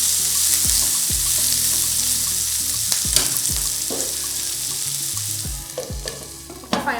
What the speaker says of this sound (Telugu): ఒక 5 మినిట్స్ ఇలా మగ్గించుకుందాము.